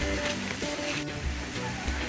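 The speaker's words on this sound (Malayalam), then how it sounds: "നല്ല മഴയാണ്. ഞങ്ങൾ സൂവിൻ്റെ അകത്താണ്." Heavy rain falls at a zoo in Trivandrum as a continuous hiss of drops on surfaces, nearby and steady, with low background tones underneath.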